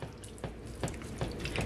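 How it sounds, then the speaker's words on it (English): Water is poured into ground beef cooking in a pan for hot dog chili, a soft sizzling splash with rhythmic mashing sounds, close up. "If you just put in about a quarter of a cup of water and mush it around"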